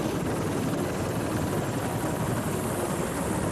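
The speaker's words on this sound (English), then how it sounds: "As soon as the chopper touches down," A helicopter touches down at an intersection, its rotor and engine producing a loud, continuous, throbbing roar close by with no talk over it.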